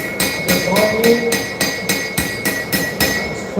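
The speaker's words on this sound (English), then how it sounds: "Go to the other side. Just ball peen." A ball peen hammer striking hot steel on an anvil during live knife forging at a knife show, about a dozen sharp, ringing blows in quick, even rhythm, loud and close.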